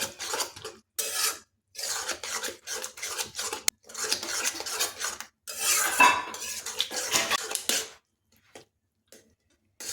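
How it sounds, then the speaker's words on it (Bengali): Moong sprouts stirred with a spatula in a pan: repeated close scraping and metallic clinks in bursts of a second or two, separated by short pauses, with no voices. "একটু কুন্তি করে ঘেটে দিলাম"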